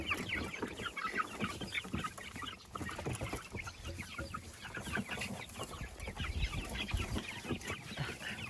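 Young chicks cluck and chatter steadily with a busy scratching, rustling texture underneath as they scratch through grain mix with their feet, close by and continuous with no talking.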